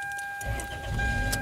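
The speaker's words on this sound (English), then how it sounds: "All right, let's start the car." A 1999 Toyota Corolla engine starting, a short cranking burst that catches into a low rumble, close by.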